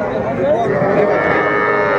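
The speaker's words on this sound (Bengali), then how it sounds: "ষাঁড় বাচ্চা" A Sahiwal bull calf at a cattle sale in Meherpur gives one long, loud, continuous moo close by that fills the whole moment.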